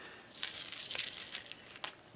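A paper cigar band on an Avo Syncro Nicaragua Fogato peels off in layers with faint, close crinkling and tearing crackles in short irregular bursts.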